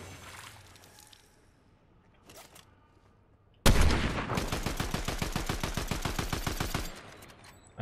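Rapid burst of gunfire in Fortnite, a dense string of evenly spaced shots lasting about three seconds, loud and close, following a quieter stretch of faint game sounds.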